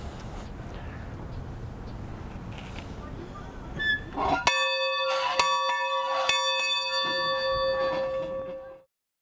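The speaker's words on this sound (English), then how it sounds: "So that's how I ring the bell." A bell rings out with a bright, sustained metallic tone. Several strikes sound in quick succession and their resonance holds before it is cut off. Faint background murmur comes before the ringing.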